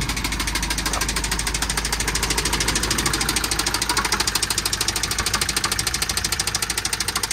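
Engine of a Nissan Patrol pickup under restoration knocking steadily at idle, a rapid, even metallic ticking over a continuous low rumble, close and loud with no talking.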